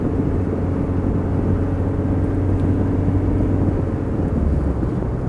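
A Land Rover Discovery 300Tdi automatic cruises while shifting into top gear, heard from inside the cabin as a steady, fairly loud low engine and road drone with no clear break, and no one speaking.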